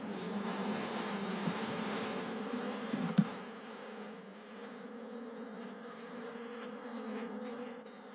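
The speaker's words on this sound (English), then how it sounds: "The queen bee will calm the other bees and lead them to settle down here." A soft, steady drone of many wild bees buzzing together around a beehive, fairly faint and distant, rising and falling slightly in intensity.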